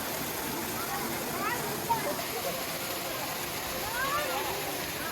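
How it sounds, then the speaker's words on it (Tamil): Water pours down at Kiliyur Falls in Yercaud, heard as a steady, moderately distant rushing wash, with faint voices briefly rising over it. "அந்த தண்ணி கொட்டுற சத்தமே வந்து அவ்ளோ நல்லா இருந்தது"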